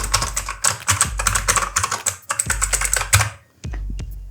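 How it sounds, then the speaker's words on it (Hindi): Rapid clicky typing on a Redgear Shadow Blade mechanical gaming keyboard with blue switches and a numeric pad, loud and close, in dense bursts of sharp keystrokes with short pauses, no voice. "क्लिकी ब्लू मैकेनिकल स्विच के साथ आता है, आप साउंड सुन सकते हो।"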